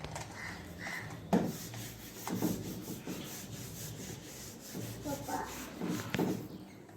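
Writing being rubbed out on a board, a close, scratchy rubbing in repeated uneven strokes with short pauses.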